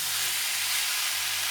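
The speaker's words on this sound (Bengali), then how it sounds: "এবার মশলায় নুন চিনি সব দিয়ে এঁচোড়টাকে একটুখানি কষাবো।" Jackfruit sautéing in spices with salt and sugar gives a steady, close sizzle and hiss from the pan, continuous and even with no talking.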